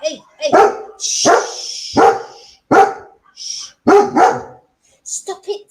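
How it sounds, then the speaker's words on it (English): A chihuahua barks outside, setting off another dog, with several sharp yipping barks in irregular bursts, fairly loud and close, separated by brief pauses. "So that's the bloody chihuahua out there, Coco, barking, and that sets my dog off"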